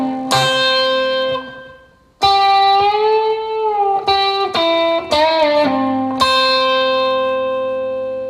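An electric guitar plays a phrase in a lesson setting: several sustained, ringing notes and bends in sequence, with a brief pause partway through, played loud and close with no talking.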